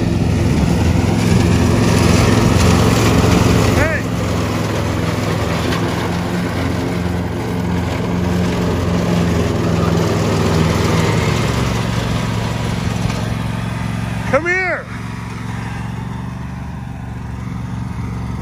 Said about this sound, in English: This has to be revved up like this when you're mowing grass.